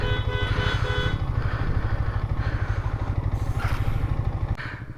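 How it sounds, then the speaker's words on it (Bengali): Motorcycles on a mountain road with a rough, rapid engine putter up close and short horn toots layered over it, the engine easing down near the end. "সামনে একটা ভাঙা জায়গা আছে যার কারণে হর্ন দিয়ে সবাই থামতে বলতেছে"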